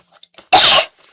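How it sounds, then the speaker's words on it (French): A single loud, harsh cough bursts out close up after a few faint breathy sounds, then quiet. "Je tousse."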